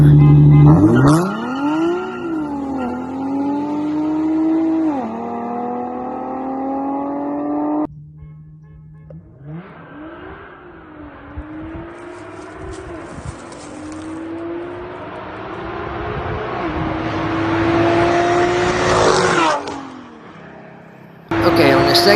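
BMW 650i V8 twin turbo and Infiniti G37 in a street race, engines revving hard through rising gear pulls, a sudden drop, then a long roaring acceleration that fades and returns, loud and close.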